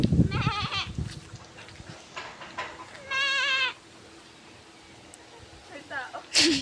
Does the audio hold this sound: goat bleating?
yes